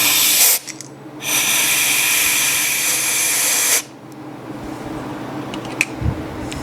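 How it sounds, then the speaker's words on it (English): Compressed air blasts hard while working on the rocker arms of a five-cylinder radial engine, two loud hissing bursts of several seconds each, followed by quieter shop noise. "I hate to blow the air real hard over here."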